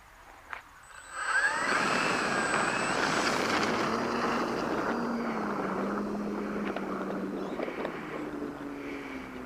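A TopRC Blazer electric RC trainer airplane, roughly 1200 to 1280 mm wingspan, takes off, its propeller motor rising quickly to a steady high-pitched whine that stays loud and near, with a slight pitch shift as it climbs away.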